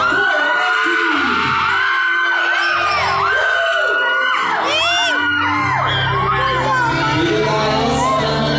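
A concert crowd at a Filipino show cheers, whoops and shouts loudly and continuously with high children's screams, the noise filling the space throughout without a break.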